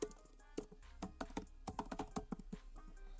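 A password is typed on a computer keyboard: a close run of quick, uneven key clicks with short pauses, and no voices.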